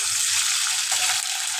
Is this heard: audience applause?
no